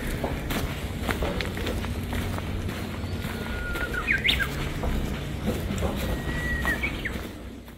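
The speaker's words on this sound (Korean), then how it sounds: "마치 밀림 속을 걷는 듯 들리는 건 새소리와 바람소리 뿐입니다" Birds chirp and tweet in short calls over a soft background rush of wind in a forest on a ridge trail, with faint rustling footsteps nearby.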